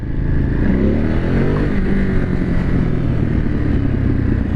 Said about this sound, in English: I love that V-twin sound. I mean, Ducati does a great job with their V-twins.